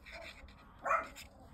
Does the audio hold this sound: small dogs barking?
yes